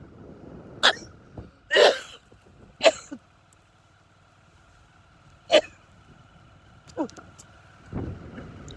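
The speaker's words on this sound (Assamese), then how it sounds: "কাহটো পাই গৈছো" Several short, sharp coughs spaced irregularly over a quiet background, fairly close and loud, with a low rumble of wind at the end.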